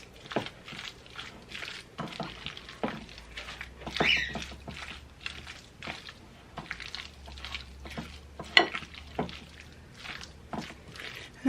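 A savory mixture seasoned with black pepper is stirred in a pan, giving soft wet squishing and scraping sounds in an irregular rhythm, close and moderately quiet, with no talking.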